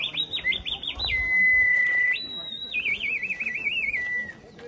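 Clay whistles sold to tourists at Chichen Itza, Mexico, imitate big cat sounds with loud, piercing sliding and warbling tones in several bursts, with brief background voices underneath.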